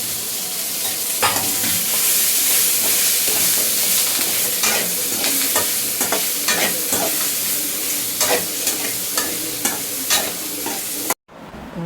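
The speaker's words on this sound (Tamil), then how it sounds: "கொத்தமல்லி சேர்த்துக்கலாம், கருவேப்பிலை சேர்த்துட்டு நல்லா வதக்கி எடுத்துக்கலாம்." Coriander and curry leaves sauté in a pan, a continuous loud sizzle with frequent scraping strokes of a stirring spoon, close up, ending in a sudden cut.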